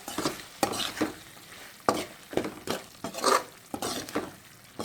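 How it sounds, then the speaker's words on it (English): Prawn biryani is stirred in a pan with a spoon, giving repeated scraping, sizzling strokes in an uneven rhythm, moderately close and with no talking. "Give this a good stir"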